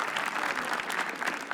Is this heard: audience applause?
yes